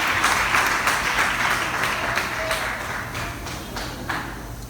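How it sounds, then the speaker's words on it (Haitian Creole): Audience applause after a cosmetology school performance, a sustained burst of many hands clapping close and loud, gradually thinning toward the end. "On nous applaudit Tamara encore s'il vous plaît"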